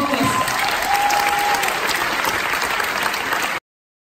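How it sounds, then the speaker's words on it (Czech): A crowd at a gala evening claps continuously and fairly loudly for several seconds, a dense even wash of applause that cuts off abruptly near the end. "ještě prosím potlesk"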